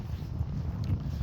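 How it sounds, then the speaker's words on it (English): Low, rumbling wind buffeting a microphone outdoors beside a BMW E30 325i saloon, a steady gusty roar with no other clear sounds. "Excuse the wind today, it's a bit"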